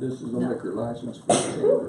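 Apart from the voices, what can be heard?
sneeze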